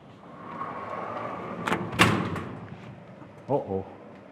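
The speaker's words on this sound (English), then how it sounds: "I need to close this door because I'm..." An indoor door swung shut with a sharp thud and rattle, followed a moment later by a couple of lighter knocks, heard over low room noise.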